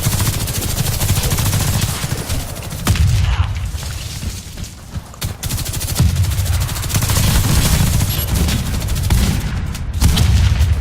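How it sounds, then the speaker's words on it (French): Gunfire in the shooter video game Warface, including shotgun blasts, dense and loud, with rapid bursts and booms layered over a constant rumbling game soundscape. "il tire je sais pas combien de balles de fusil à pompe"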